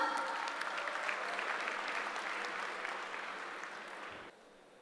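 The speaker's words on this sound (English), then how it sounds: "Give them a huge round of applause." Applause from an audience at a technical session, sustained clapping from a crowd that slowly thins and fades before stopping abruptly.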